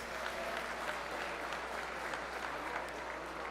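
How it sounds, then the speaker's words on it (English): Audience at a live entrepreneurship presentation applauding, a steady even wash of clapping for a few seconds, moderately distant. "Let's give them a round of applause as well."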